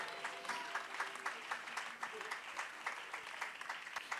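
A congregation in church claps in a steady, rhythmic beat, sustained applause at moderate distance with faint voices mixed underneath.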